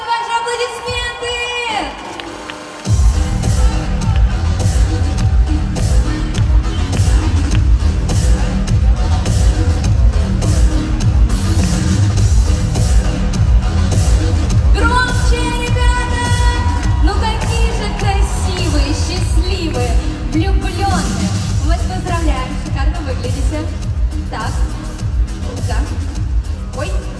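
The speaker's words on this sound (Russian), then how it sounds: "покажи аплодисменты!" Loud, sustained audience applause and cheering at the Zhara Media Award ceremony, erupting after a brief quiet moment and continuing steadily with whoops and shouts from a large crowd in the hall.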